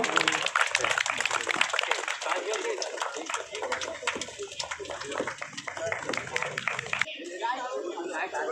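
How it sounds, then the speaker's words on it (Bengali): An audience at a school inter-school sports carnival claps loudly for guests, dense rapid applause close by that thins toward the end. "জোরে হাততালি হয়ে যাক ম্যাডামের জন্য এবং স্যারের জন্য"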